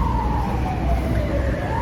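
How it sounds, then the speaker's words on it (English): Fire department vehicle sirens wail in a city street, a steady rising and falling tone heard from some distance over traffic rumble. "listen to all the sirens, guys."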